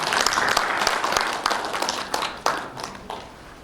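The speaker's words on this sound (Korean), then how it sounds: "뜨거운 박수로 모시겠습니다" A breakfast seminar audience greets a former agriculture minister with warm applause: a burst of many hands clapping at once that gradually thins out into a few scattered, sharper claps.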